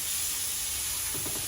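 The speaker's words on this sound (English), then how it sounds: "So, I'm gonna take your thighs and just place them in the pan." Chicken thighs sizzle steadily in a hot pan for braising, a continuous bright frying hiss with a few soft bumps near the end as the pieces settle.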